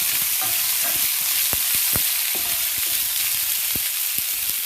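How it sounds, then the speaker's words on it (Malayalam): Potatoes for a Kerala mezhukkupuratti fry steadily in a pan, with a constant hiss of sizzling oil and a series of sharp scrapes and clacks as a spoon stirs them through, close and fairly loud with no talking. "പൊട്ടറ്റ് ചേർത്ത് നമുക്ക് നന്നായിട്ട്"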